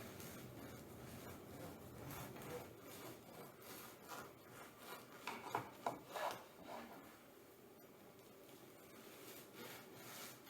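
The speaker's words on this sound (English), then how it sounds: "the loaf of bread has cooled off enough to try to slice it" A knife saws through a cooled loaf of homemade sandwich bread in steady back-and-forth rasping strokes, close and fairly soft, growing a little crisper and louder near the middle before settling again.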